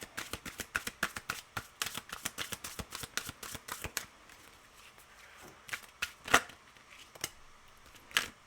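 Tarot cards being shuffled and drawn, a fast run of crisp riffling flicks for about four seconds, then scattered single snaps and slaps as cards are pulled out, close and fairly quiet.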